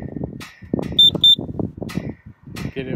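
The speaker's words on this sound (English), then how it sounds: "you hold the middle set button and it'll beep very extremely loudly" A gate opener control box gives two loud, piercing electronic beeps in quick succession over continuous talking by a man.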